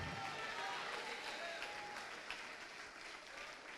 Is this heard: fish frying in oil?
no